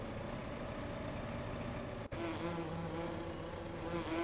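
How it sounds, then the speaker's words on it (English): Bees buzzing near beehives in the farming game Farming Simulator 2015, a faint, continuous drone with a steady hum and a brief dropout midway. "but I heard bees"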